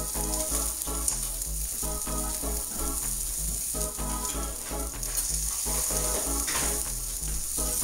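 Dijon chicken strips frying in a pan, a continuous bright sizzle running under a rhythmic music bed, steady and fairly loud throughout.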